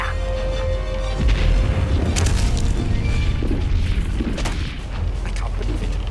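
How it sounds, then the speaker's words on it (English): A ship's cannons fire a broadside, heavy booms rolling out over a dense, rumbling din with scattered sharp cracks, loud and sustained. "Let's give 'em a broadside."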